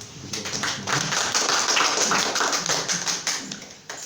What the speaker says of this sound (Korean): 박수로 환영해 주시도록 하겠습니다